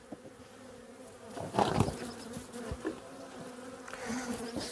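Honeybees from an opened hive colony drone in a dense, steady buzz, swelling louder for a moment as insects fly close, with faint handling noises in the background.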